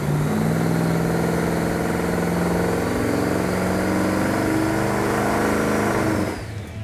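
An old, worn car engine running at high RPM on a chassis dynamometer, a loud steady drone with harmonic whine that holds for about six seconds before dropping off at the end.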